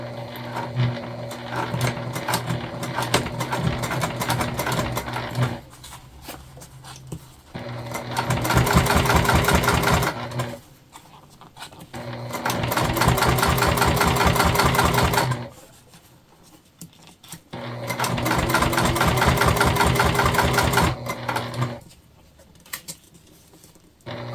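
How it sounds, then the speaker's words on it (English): A sewing machine top stitching a small fabric mini hip bag runs in three long bursts of steady, rapid needle chatter, separated by short quiet pauses while the fabric is repositioned, close and clear with no talking. "We're gonna top stitch just as we just did."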